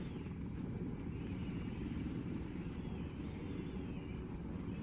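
A steady, loud helicopter rotor-and-engine drone in Arma 3 fills the whole stretch, a continuous low rumble with a faint whine above it and no talking.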